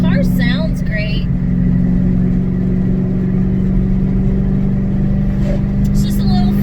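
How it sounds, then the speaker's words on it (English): A Ford Mustang GT, a NASA Spec Iron race car, drives with a steady loud engine drone and low rumble, with brief higher sounds at the start and end. "Car sounds great."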